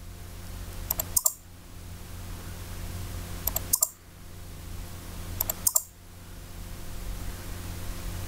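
Mouse clicks and keypresses on a computer while drafting a 3D sofa in AutoCAD 2015, three small bursts of sharp clicks spaced a few seconds apart over steady background hiss.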